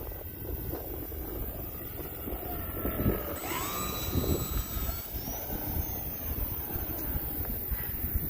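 An E-flite T-28 RC model airplane passes overhead outdoors on a cold afternoon, its whining electric motor rising and falling in pitch as it sweeps by, over steady wind noise.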